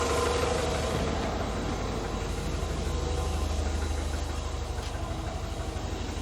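Car engine idling at about 800 RPM once warmed past needing its manual choke, a steady low rumble with faint knocking and no voices throughout.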